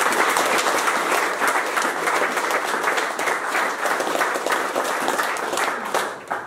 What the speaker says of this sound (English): So a massive round of applause for them.